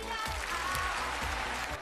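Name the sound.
studio audience applause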